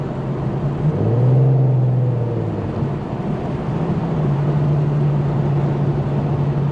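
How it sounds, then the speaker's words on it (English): A low, throaty tuned exhaust from an E85-tuned Infiniti Q50's VQ engine rumbles steadily inside the moving car at night, its pitch rising and settling as the revs change, under road and wind noise. "I really want y'all to hear the exhaust"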